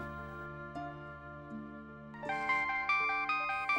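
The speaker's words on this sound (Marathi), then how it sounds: "फोन येतोय." A mobile phone rings with an incoming call, its melodic ringtone entering over a steady tonal music bed in a Marathi TV drama scene and repeating in bright, rising phrases.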